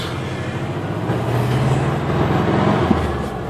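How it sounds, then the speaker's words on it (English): A motor idles nearby with a low, even rumble that rises slightly midway, steady and uninterrupted, with no voices. "the engine is going quite good"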